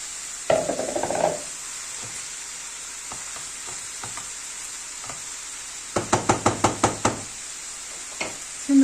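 Chopped leeks tipped into a hot pan for a crispy leek börek filling, a brief sizzle followed by a quick burst of knocking spoon-against-pan stirring strokes, close up with no talking.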